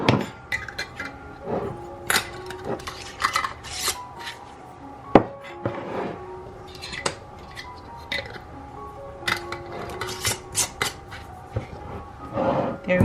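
Metal lids twist and clink onto glass jars of bulk honey in a string of scraping, rasping turns and sharp taps, close up and irregular, with one louder knock near the middle.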